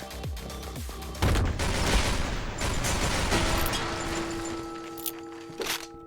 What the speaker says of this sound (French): Oh, ça part trop vite les balles, c'est ouf.